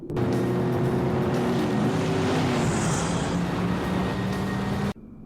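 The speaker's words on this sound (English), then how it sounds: "To give Sam time, Dean jumped into his Impala to lure the truck away." A steady loud engine roar from a chase on a road between a pursuing truck and a Chevrolet Impala, sustained and droning with a gear-like tonal whine throughout, ending abruptly.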